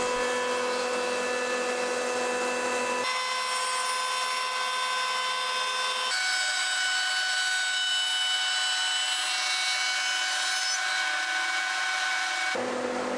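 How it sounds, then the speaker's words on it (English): A power planer runs steadily on a laminated wood railing, a loud, even machine whine with a shift in pitch partway through as the blade bites the glued-up board, alone without talk. "With one flat side, I can now plane the other side down parallel."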